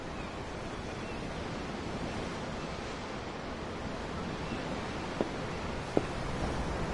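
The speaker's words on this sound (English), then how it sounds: "I'm looking at the ocean. The ocean? Yeah. The waves." Ocean waves in the video game Tales of Arise, a steady broad wash of surf rolling on without a break, with two faint sharp ticks near the end and no speech.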